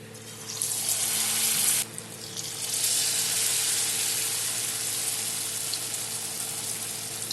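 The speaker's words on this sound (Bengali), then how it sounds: "এখন আমি একটা একটা করে সব ভেজে নেব।" Stuffed bitter gourd coated in rice flour batter fries in oil with a steady, dense sizzling hiss that dips briefly near the start, then carries on evenly with no voices.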